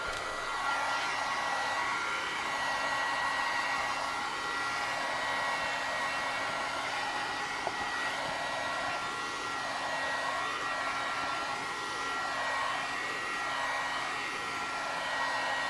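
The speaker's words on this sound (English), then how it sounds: "Heat gun!" A heat gun used for card-making blows a continuous, steady airy roar close by, its tone wavering slowly up and down as it is moved, with no talking over it.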